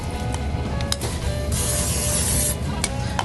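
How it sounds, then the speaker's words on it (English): Cooking spray hisses onto a pan in short bursts and one longer sustained spray, close and loud. "I'm going to spray my pan just a little bit."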